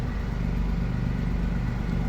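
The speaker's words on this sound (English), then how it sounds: "that's the gas engine kicks in once you move it in sport" A BMW i8 Roadster in Sophisto Grey Metallic runs its gas engine in sport mode, a steady, close, low droning hum with no change in pitch or loudness over a couple of seconds.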